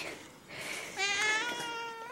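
A pet cat meows, a drawn-out rising and falling cry near the end, close and clear, following softer vocal sounds at the start.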